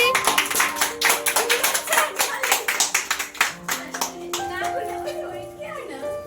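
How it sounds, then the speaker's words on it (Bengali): Hands clapping at a Teachers' Day gathering, a quick run of sharp claps at the start with children's voices, then thinning to scattered claps among talk and background sounds. "হাততালি হাততালি"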